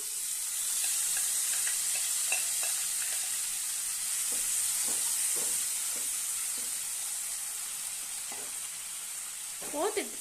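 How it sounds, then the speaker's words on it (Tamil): Boiled carrots for carrot halwa sizzle steadily in hot ghee in a pan, with intermittent scraping stirs over a constant close frying hiss and no talk. "அதே நெய்யிலேயே நம்ம இந்த கேரட்டை வேக வச்சதை போட்டுடலாம்."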